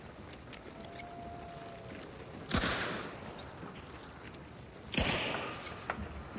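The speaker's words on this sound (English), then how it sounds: "but I'm just shooting" Two sharp shots in the video game Hunt: Showdown, spaced a couple of seconds apart over quiet swampy bayou ambience, each with a broad blast and a lingering tail.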